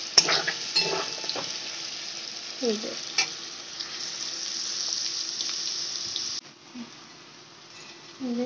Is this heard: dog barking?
no